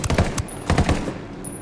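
Automatic gunfire in the video game Ghost Recon Wildlands, two quick clusters of loud, close rapid shots separated by a short pause, with nobody talking.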